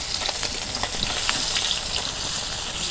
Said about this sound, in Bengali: নিয়ে আর এক খোলা মাছ ভাজুন।